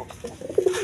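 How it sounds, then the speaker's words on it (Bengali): A pair of white Indian paper pigeons gives a brief, close coo, a quick rising burble ending in a drawn-out note. "দর্শক এখানে এক পেয়ার ইন্ডিয়ান কাগজি কবুতর আছে, ইন্ডিয়ান কাগজি একদম হোয়াইট কালারের মধ্যে"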